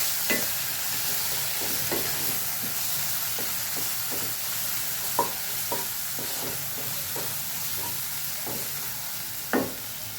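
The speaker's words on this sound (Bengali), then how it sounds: "আর অল্প করে একটু নুন দেবো। দিয়ে নাড়াচাড়া করবো।" Spices with a little added salt being stirred and fried in oil give a steady sizzle, with periodic soft scrapes of a spatula against the pan at irregular intervals, close and alone.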